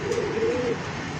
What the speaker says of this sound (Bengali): আরেক জোড়া মুসলদম কবুতর,